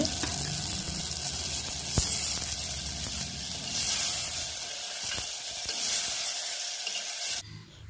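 Chopped tomatoes and onions sauté in a pan for aloe vera tamarind curry, giving a steady, close sizzle with occasional stirring clinks and no speech.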